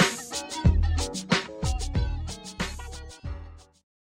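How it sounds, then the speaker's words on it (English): A house doorbell plays a short melodic chime of several ringing, piano-like notes with strong low accents, fairly loud and close, then fades to silence after about four seconds. "my doorbell sounds like this"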